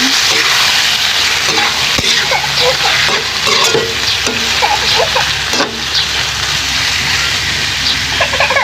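Squid for adobo frying in a pan while being stirred, a loud, constant sizzle with scraping and clinking of the spoon throughout.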